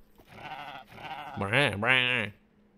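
A Minecraft llama gives two drawn-out, nasal bleats back to back, fairly loud and close, right after a stretch of murmured talk.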